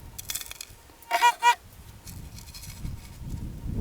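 A metal detector warbles over a small piece of leaf gold while prospecting for gold nuggets: two short, loud wavering tones close together, then a quieter low rumbling background with no talk.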